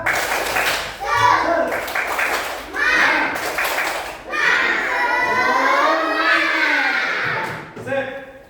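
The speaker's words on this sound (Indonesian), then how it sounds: "Tepuk semangat." Children in a classroom clapping hands in a rhythmic cheer, bursts of clapping alternating with a teacher speaking and kids' voices calling out, loud and close.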